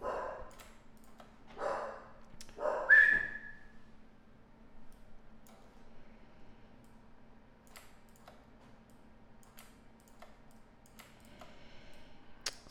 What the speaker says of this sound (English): and now my dogs are barking.